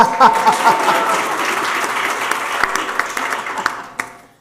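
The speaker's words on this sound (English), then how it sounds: "Oh, you could clap if you want." An audience at a women's business and leadership panel applauds a newly introduced assemblywoman, dense sustained clapping from a room of people that fades out at the end, with a voice briefly heard at the start.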